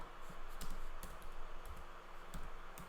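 Keys on a computer keyboard clack in quick, irregular bursts, soft and close, with brief pauses between runs of keystrokes.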